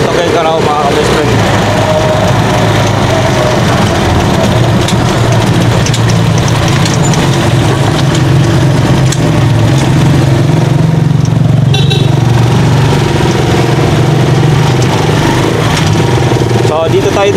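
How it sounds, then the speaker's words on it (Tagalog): A Rossi Chariot 175cc motorcycle tricycle engine runs steadily throughout, a continuous low rumble heard up close while riding around Tuguegarao toward the Solana steel bridge, with traffic and road noise around it. "So gamit natin ngayon Rossi Chariot 175cc."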